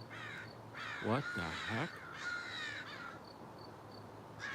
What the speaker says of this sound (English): I don't know if I've ever seen so many freaking crows.